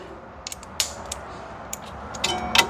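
A 10mm socket wrench turning a brake bleeder valve on a Saturn Sky, producing a few faint creaks, ticks and light metallic clicks up close in a quiet workspace.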